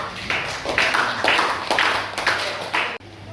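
A class of students claps hands in a classroom lesson, several sharp rhythmic bursts of group clapping that stop abruptly near the end.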